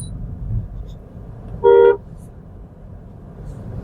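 A lorry rumbles past on the road and gives one short, loud blast of its horn midway through.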